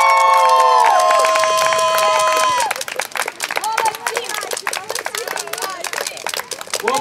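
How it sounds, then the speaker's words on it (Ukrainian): School fans at a physical education teachers' sports competition cheer and clap loudly, a crowd roar opening under a sustained whistle-like tone, then giving way to scattered claps, shouts and voices. "Найсмачніша нагорода – це найкращі, найгучніші вболівальники."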